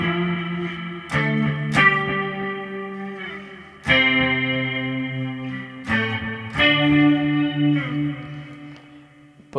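A Les Paul electric guitar played on the neck pickup through a BIAS FX simulated Fender Dual Reverb rings out in clean, bright strummed chords, each struck sharply and left to sustain and decay in a steady, unhurried sequence.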